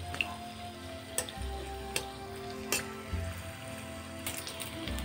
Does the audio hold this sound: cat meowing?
no